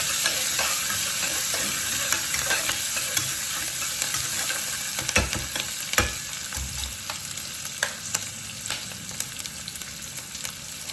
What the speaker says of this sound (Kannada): ಈರುಳ್ಳಿ ತುಂಬ ಬ್ರೌನ್ ಮಾಡ್ಕೋಬೇಡಿ. ಸ್ವಲ್ಪ ಕಚ್ಚಾ ಪಕ್ಕ ಇರಬೇಕು